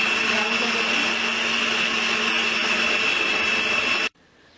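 Minced meat (keema) churns in an electric grinder, a steady loud whirring motor drone holding constant for about four seconds before cutting off abruptly into near silence.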